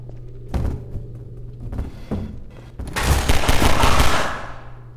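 Pistol gunfire in the video game Half-Life 2, a few separate shots followed by a louder burst of rapid fire and clatter from about three seconds on, with no talking.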